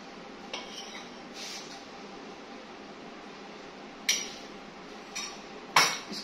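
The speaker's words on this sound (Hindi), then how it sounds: "डोंगे वाले चम्मच ये इसमें मैं डालूंगी और इसको अच्छे से मैं मिक्स करूंगी।" A large serving ladle mixes gram flour (besan) in a bowl for kadhi pakora, with a few sharp metallic clinks and taps scattered over a quiet hiss.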